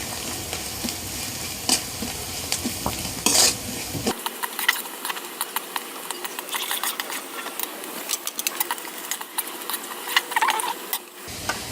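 Mutton being stirred with chili powder in a pan, a close sizzle with repeated scraping and clinking of a utensil against the metal, no talking.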